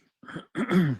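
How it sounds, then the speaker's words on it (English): A short, close throat clearing: a soft rasp followed by a louder, gravelly hem, alone in a quiet room. "Clear my throat."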